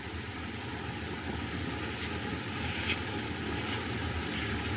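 Steady droning propeller airplane engine in a 1929 film scene, a continuous broadband roar at constant level with no voices over it.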